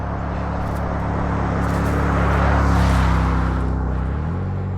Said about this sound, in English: It was a big Ford SUV that came the other way.